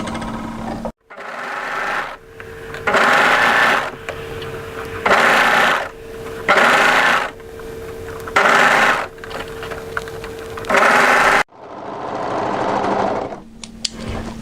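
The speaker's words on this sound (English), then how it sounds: "So what I'm going to do is just overlock the raw edges of that." An overlocker serges the raw edges of a coatigan sleeve in about six short start-stop bursts of close, steady whirring, with brief pauses between runs and one longer continuous run at the end.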